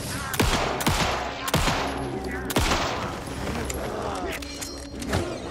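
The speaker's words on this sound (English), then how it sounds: "Oh, he's getting shot." Rapid bursts of gunfire from the video game Alan Wake 2, several sharp shots and volleys in quick succession over a busy background, with a voice talking over parts of it.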